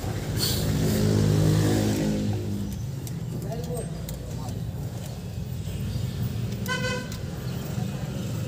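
Jeepney and street traffic on a city road: a steady engine rumble and passing vehicles, with a loud car horn blaring early on and a short burst of honks near the end; people talk faintly in the background.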